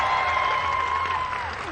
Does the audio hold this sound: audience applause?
yes